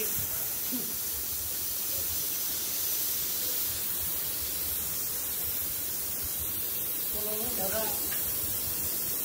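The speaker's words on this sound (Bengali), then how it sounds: "তো আমরা এখন প্রেসার বের করে দিচ্ছি।" Refrigerant pressure hisses out of an air conditioner during gas charging, a loud steady rush of noise that runs unbroken from start to end, with faint voices underneath.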